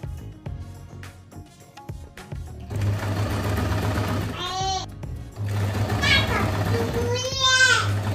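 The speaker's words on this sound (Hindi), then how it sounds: "दोनों साइड में थोड़ा थोड़ा कपड़ा अंदर करके सिलाई लगा लूँगी" Sewing machine stitching cloth from an old suit and salwar into a sofa cover, the motor whirring in steady runs that start and stop, with a voice and other voices chattering in the background.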